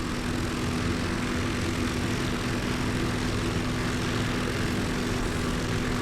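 A propeller airplane engine roars at full throttle in the flight-sim game Combat Pilot, a steady loud drone that holds constant for the whole stretch.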